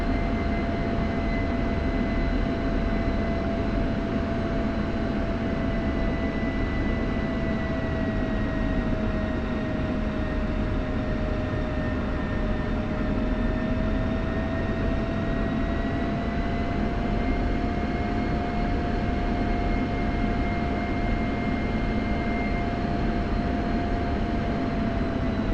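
Steady F-16 jet engine drone from a flight simulator game while the jet taxis over Syria, a continuous loud broadband roar with sustained whining tones, unbroken and alone throughout.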